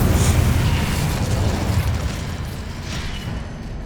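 A fire spell cast in the Hogwarts Legacy video game, heard as a loud, sustained roaring whoosh of flame that fades gradually over several seconds, with no talk.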